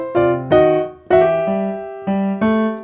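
An old-school blues piano lick played whole, in one run down and up the keys: five sustained, harmonically rich chords or note clusters struck in a steady, unhurried rhythm, close and clear with no voice.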